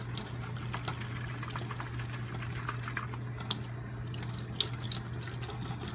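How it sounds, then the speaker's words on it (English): Tap water runs steadily into a sink while a blown egg is rinsed out, a constant close hiss with a low hum underneath and occasional small splashes and drips. "As you can see, that water's coming out really clear."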